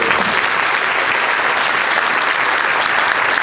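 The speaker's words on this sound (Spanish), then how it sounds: "Vamos a ver un aplauso." A crowd at a social movements gathering applauds in support of sugarcane workers, a loud, continuous, even burst of clapping.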